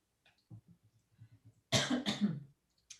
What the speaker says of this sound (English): Not COVID, just coughing.